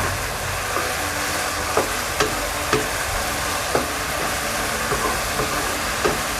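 Chicken with garlic and pepper sizzles steadily in a hot wok, being dried out a little to char, while a spatula scrapes and knocks against the pan at a fairly regular pace, close by with no talking.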